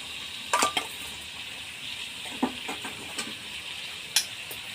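Meat curry frying in a pan as spices and garlic paste are added, giving a steady low sizzle broken by a few sharp stirring clinks and scrapes close by.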